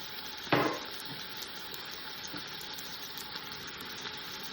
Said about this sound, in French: je vais la faire dorer un petit peu des deux côtés